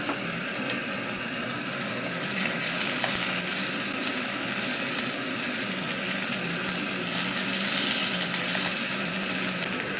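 Aussie sausages fry in a pan in a garage with a constant, dense sizzle that runs unbroken at an even level, close by and alone, with no talking.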